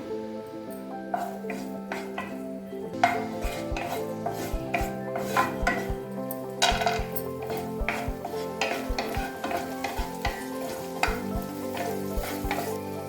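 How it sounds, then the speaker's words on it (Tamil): Cashews and raisins fry in ghee with a steady, soft sizzle, punctuated by frequent light clinks and taps of a spoon against the pan, close and without voices. "முந்திரி பருப்பு கிஸ்மிஸ் பழம் வறுக்கிறதுக்கு உரிய நெய் ஊற்றிக்கலாம் கிஸ்மிஸ் பழம் போட்டுக்கலாம்"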